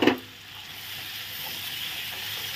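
Spices such as coriander powder and chili powder sautéing in a pan for a mung dal and pointed gourd dish: a steady, close sizzle with a brief stirring clatter at the start.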